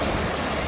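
Waves wash onto a beach in the Andaman Islands near India's southern tip, a continuous broadband surf rush with light wind noise, steady and fairly close, no voices.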